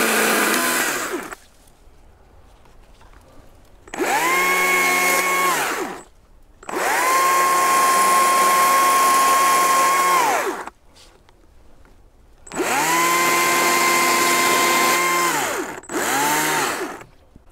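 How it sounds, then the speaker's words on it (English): Electric chainsaw cutting through a large Japanese maple branch during pruning: three long, loud whining bursts of motor revving separated by short idle gaps, then a brief final burst, close by and alone with no talk. "the electric chainsaw is a bit easier than the petrol-driven ones because they're lighter and a bit easier to manoeuvre"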